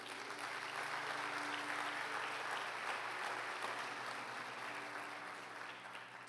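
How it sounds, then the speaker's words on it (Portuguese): A church congregation applauds together in a steady, dense wash of clapping that holds evenly throughout and fades slightly at the end, heard from within the room. "Você pode aplaudir ao Senhor?"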